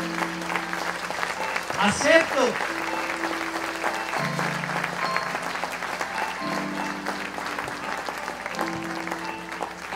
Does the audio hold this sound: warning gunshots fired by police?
no